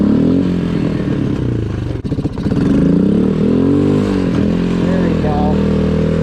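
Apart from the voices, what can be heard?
Suzuki QuadRunner 230 ATV engine revving in low range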